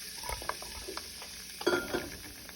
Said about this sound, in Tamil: இப்போ இதில் பீன்ஸை சேர்த்துக்கலாம்.